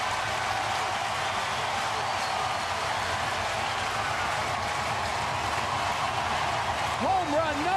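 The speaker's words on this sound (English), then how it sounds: "And this crowd is going crazy here at Busch Stadium." Stadium crowd at Busch Stadium roaring after a home run against the Cubs, a steady dense cheer held at one level throughout, with a voice rising briefly near the end.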